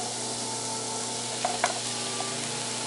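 King crab sauce with cream of mushroom sizzling in a frying pan, a steady close hiss broken by a few soft utensil scrapes and clicks from stirring partway through.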